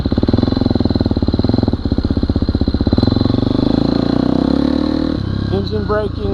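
A motorcycle with a Rekluse clutch coasting in second gear under engine braking, a loud, fast, steady engine pulse that fades and slows toward the end, with voices talking over it.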